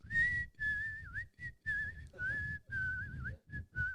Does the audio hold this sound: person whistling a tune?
yes